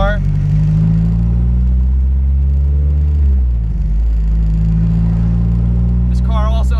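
A Mazda Miata with a 1.8 liter engine and Jackson Racing supercharger idles with a steady loud low rumble, its pitch dipping briefly midway, while someone talks over it throughout.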